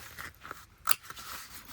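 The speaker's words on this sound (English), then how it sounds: "and then trim this fabric right along the edge" Scissors trim fabric along the edge of a bag piece, giving soft snipping and crunchy cutting sounds with one sharp, louder snip in the middle, close and quiet.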